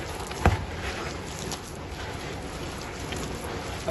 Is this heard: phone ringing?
no